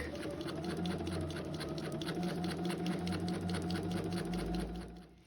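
A sewing machine stitching the sleeve seam of a gown, running steadily with a fast even needle patter and motor hum, close up, slowing at the end.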